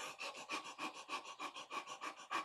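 A voice imitates a large dog of 50-60 kg panting in a hot place: quick, steady rhythmic breaths in and out, close and fairly soft, about a dozen pants with no other sound.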